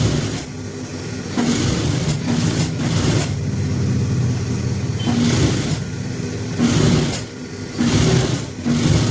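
An electric sewing machine double-stitches a simple men's kurta, its motor whirring loudly and close in several sustained runs separated by short pauses.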